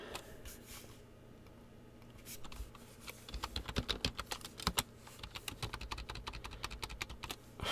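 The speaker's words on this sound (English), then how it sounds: "We'll start typing up the divider." Typing on a computer keyboard during a nightly weather webcast, faint at first, then steady close clicking in quick irregular runs of keystrokes, with no speech.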